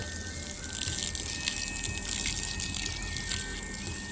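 Water flows steadily while a field is being watered, a constant outdoor gushing rush with faint splashing and no talk.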